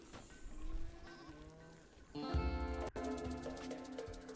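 Goats bleat in a Rimworld animal pen, a few wavering calls at moderate loudness, one longer and louder near the end, with no talk over them.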